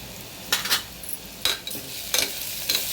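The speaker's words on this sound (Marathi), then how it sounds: "हे तेलावर असं जरा थोडंसं भाजून घ्यायचं।" Turmeric and coriander powder roasting in hot oil in a pan under a soft sizzle, punctuated by four or five sharp scraping stirs of a spoon against the metal.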